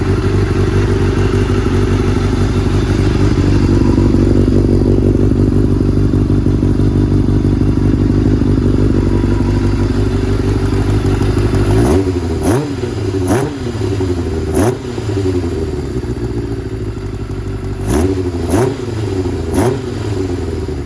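A 1989 Kawasaki Ninja ZX7 motorcycle engine runs steadily at close range after its carburetor idle screw adjustment, a loud continuous drone that breaks into several sharp revving bursts partway through.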